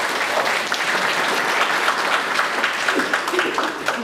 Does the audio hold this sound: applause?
yes